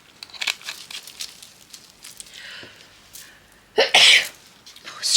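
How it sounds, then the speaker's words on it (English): A single sharp human sneeze bursts out loudly near the end, preceded by quieter rustling and small handling noises at a resin crafting table. "Oh, excuse me, I just had to have a sneeze."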